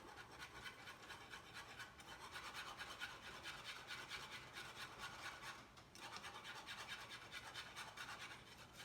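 Whisk scraping steadily through a boiling sauce in a pot as flour is added to thicken it, a continuous close rasping stir with brief pauses, no voices.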